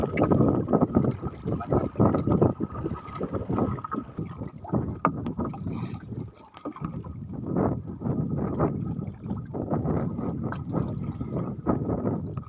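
A small boat rides a rough, wavy sea. Water rushes and slaps against the hull continuously, with gusty wind buffeting close to the microphone.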